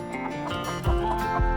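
Chickens and turkeys roosting in a farm coop give off a steady layered clucking and murmuring at close range, with a few low thumps and bumps rising over the chatter.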